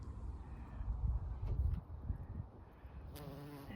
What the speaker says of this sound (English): Look at that bee.